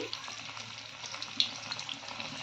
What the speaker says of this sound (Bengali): আবার কয়েকটা পকোড়া ছাড়ছি।